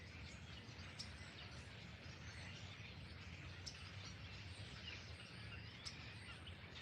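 Birds chirp and squabble outdoors, faint scattered tweets and a few sharp calls over a constant hiss of background noise, heard from a distance with no talking.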